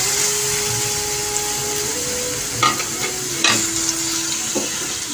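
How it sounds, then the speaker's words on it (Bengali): A mixed vegetable paste fries in hot mustard oil in a wok, with a loud, steady sizzle, a few sharp scraping stir strokes and a low tonal hum underneath. "সর্ষের তেলটা গরম হয়ে গেছে আর বাটাটাও আমার পুরোপুরি রেডি এটি এবার আমি তেলের মধ্যে দিয়ে দেবো"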